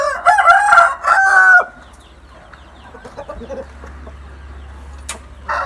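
Young roosters, about three weeks old, crow loudly in a wooden chicken coop on a poultry farm, with one long crow up close followed by softer clucking and rustling, and a short call at the end.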